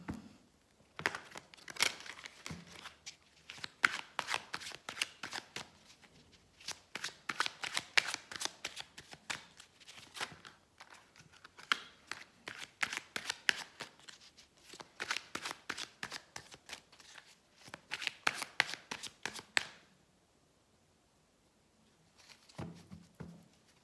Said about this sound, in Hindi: अब हम 3 कार्ड्स ड्रॉ करेंगे फॉर ओशन